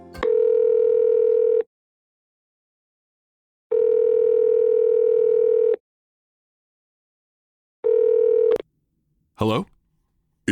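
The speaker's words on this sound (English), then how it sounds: "We will let the phone ring up to 10 times." A telephone ringback tone sounds on the line in long steady bursts with silent gaps, three rings in a row before a short burst of other noise at the end.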